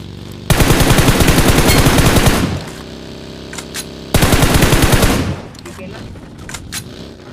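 Automatic weapon fire from the PUBG battle royale game: two long, loud sustained bursts of rapid shots, each lasting a couple of seconds, separated by a short pause, with no talking over them.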